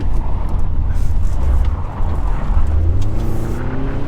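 A 2022 Hyundai Tucson with the H-Track system drives off-road around a tree, its engine droning loudly and steadily close by with a low rumble and slight rises in pitch.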